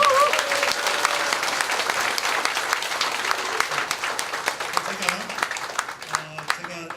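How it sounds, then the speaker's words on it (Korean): Audience at a candidate's campaign office opening ceremony gives a big round of applause, dense steady clapping that fills the room throughout, with a few voices and cheers mixed in near the end. "정말 열심히 전하시라고 큰 박수 한번 보내주십시오."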